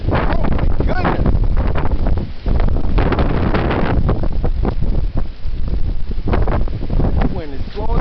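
Strong, gusting wind buffets the microphone with a loud, continuous low roar, while excited voices are heard over it.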